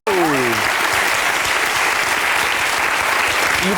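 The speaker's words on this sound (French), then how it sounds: "Je t'applaudis très fort, Océane." Studio audience applause on a French TV talk show, a steady dense wash of clapping that starts abruptly and holds loud throughout, with a brief tonal swoop at the very start.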